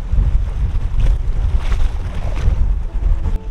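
Strong gusty wind buffets the microphone on the Gulf of Mexico shore at Campeche, a loud continuous rumble with surging blasts and faint surf beneath, no voices.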